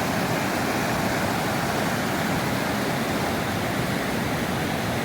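Continuous rushing water, a full steady roar like a fast-flowing river, unbroken throughout with no talking.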